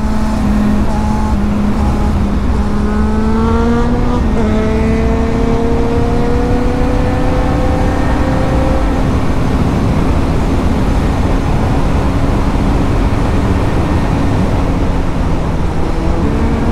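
A motorbike engine roars loudly and close during a night wheelie ride on a lit road, rising in pitch as it revs and accelerates through the gears, then settling into a steady dense drone with wind noise; no speech.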